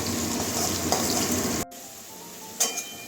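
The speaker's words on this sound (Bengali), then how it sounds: "আলুটা আমার তাড়াতাড়ি ভাজা হয়ে যাবে" Salted potatoes frying in a pan for a red amaranth and aubergine curry, loud steady sizzle that abruptly drops to a quieter hiss midway, followed by a single utensil clink, no talking.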